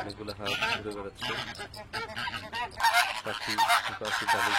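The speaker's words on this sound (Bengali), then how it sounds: "অনেকগুলো হাঁস ঘুরে বেড়াচ্ছে।" A flock of geese or ducks honks loudly and repeatedly at close range, overlapping calls rising in a dense, busy chorus that grows louder toward the end.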